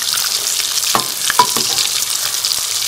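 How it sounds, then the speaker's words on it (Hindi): Matar rolls frying in hot oil until golden, giving a steady close-up sizzle and crackle with a few sharper pops and stirring clicks over three seconds, no voices. "और दोनों साइडों से गोल्डन होने तक फ्राई कर लेंगे"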